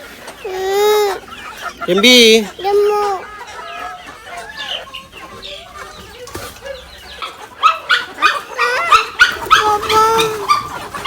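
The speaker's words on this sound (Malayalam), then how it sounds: "അമ്മേ കോഴികൾക്ക് പാപ്പ കൊടുക്കണം." Hens cluck and a rooster calls while being fed, the poultry sounds loud and close in bursts, with a dog barking and people talking in Malayalam between and over the birds.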